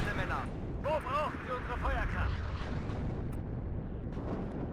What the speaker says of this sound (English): Oh, here comes my artillery though.